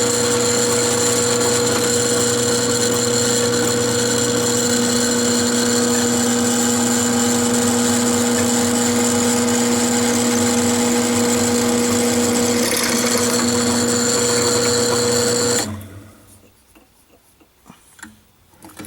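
Holes in a ZTR rider mower deck idler pulley are bored out on a drill press, a loud steady whir with a sustained tonal hum that runs nonstop before cutting off abruptly near the end, leaving faint clatter.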